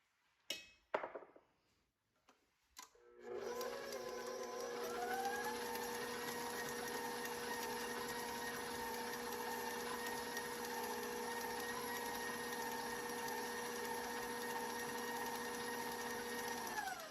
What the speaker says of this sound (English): I'm going to mix this until all my ingredients are combined